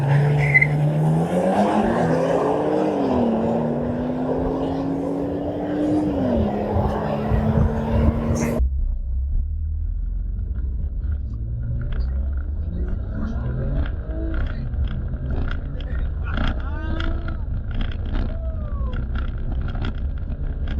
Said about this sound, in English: first drag race done between the Porsche and the Skoda